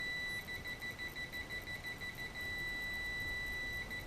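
A car parking sensor kit sounds a steady, high electronic beep tone that pulses in rapid repeated bursts, fairly loud and close, with no talking.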